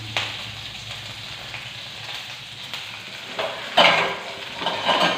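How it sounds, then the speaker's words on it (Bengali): Onions and chilies fry in oil in a wok, giving a continuous moderate sizzle with occasional louder crackles and bursts toward the end. "কড়াইতে ফোড়ন দিয়ে পেঁয়াজ লঙ্কা দিয়ে দেব।"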